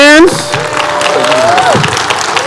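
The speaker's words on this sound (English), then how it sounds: "Clap your hands." An audience claps at the opening of a gathering, a continuous patter of hands under a voice that rises and trails off.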